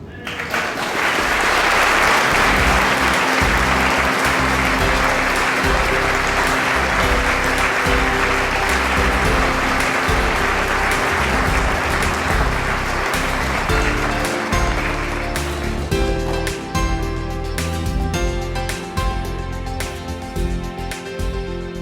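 Loud, sustained audience applause at an award ceremony honouring an artist, a dense wash of clapping throughout that thins slightly toward the end, with some voices mixed in.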